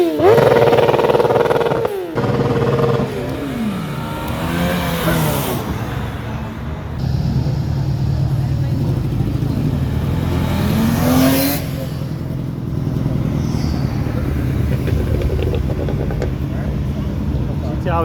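A big Mercedes car revs hard at a street car meet in Setúbal, loud rising and falling engine sweeps repeated several times up close, with crowd noise and voices underneath.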